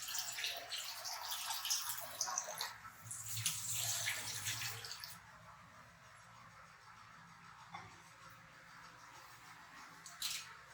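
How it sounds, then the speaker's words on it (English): Water pours noisily into a pot of frying dal for about five seconds, then stops, leaving quieter dripping and faint handling sounds. "Then we will put some water here."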